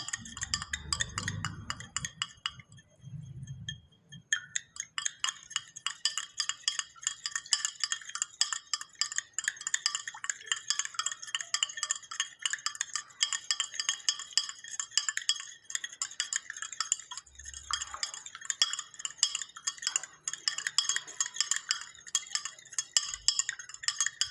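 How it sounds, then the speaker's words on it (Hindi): A spoon stirs sugar into water in a glass, making rapid, continuous rhythmic clinks against the glass for about twenty seconds. The sound is close and clear, with a brief pause near the start. "अब थोड़ी देर इसको मिलाते हैं, हम हिलाते हैं।"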